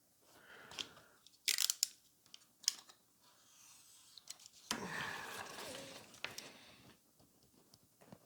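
Paper is cut out for a poppy ephemera holder craft piece: quiet, close crunching snips and rustles in short bursts, with a longer stretch of cutting midway.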